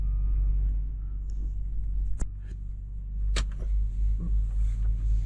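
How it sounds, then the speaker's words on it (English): Trucks pulling into a truck stop at dusk, a steady low engine rumble and idle throughout with a couple of sharp clanks or hisses standing out partway through. "Trucks are rolling in."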